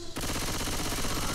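Continuous rapid gunfire from the Left 4 Dead 2 video game, a dense loud rattle that kicks in abruptly after a brief quiet moment and sustains to the end, with no talk over it.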